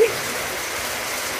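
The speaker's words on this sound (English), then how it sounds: "It's starting to rain." Heavy rain pours steadily onto a picnic shelter roof, a dense, continuous hiss with no voices.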